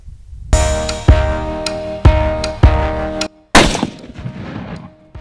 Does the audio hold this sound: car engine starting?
no